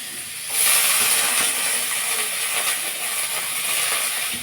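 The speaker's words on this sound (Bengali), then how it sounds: "পাস্তার জন্য আলুটা ভেজে নেব" Potatoes fry in a pan for pasta, a loud, steady, close hiss of sizzling oil that swells in after a short quiet start and holds evenly.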